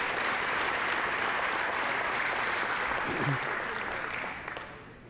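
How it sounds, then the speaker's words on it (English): Audience applause at an evening aviation hall of fame ceremony, steady dense clapping that holds for several seconds and then tapers off near the end. "how about we give Seasons Catering a round of applause for their good meal?"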